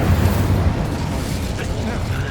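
A fire spell cast in the game Hogwarts Legacy roars as a loud, continuous blast of dense whooshing flame and rumbling booms for a couple of seconds, without pause.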